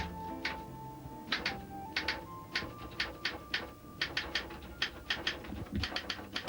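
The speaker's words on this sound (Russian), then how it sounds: "Сегодня пишущая машинка писателя отстукивает вот уже 6-е историческое" A writer's typewriter clacks out a steady run of sharp keystrokes, a dozen or more evenly spaced strikes with a faint mechanical hum between them, close and clear.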